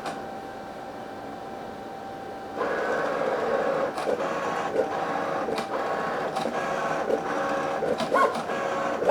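A Cricut Venture cutting machine cuts iron-on material, a steady whirring motor drone with a faint tone, rising in level partway through, then punctuated by periodic clicks and ticks as the carriage moves.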